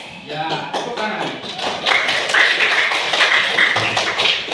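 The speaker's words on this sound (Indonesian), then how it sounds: "Ya, tepuk tangan" Children in a classroom clap their hands together in a burst of taps, fairly close and lively, with chatter mixed in throughout.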